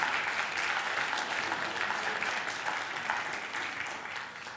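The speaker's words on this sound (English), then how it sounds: "So massive round of applause." A church congregation at a Sunday morning service gives a sustained round of applause, thick and steady, tapering slightly toward the end.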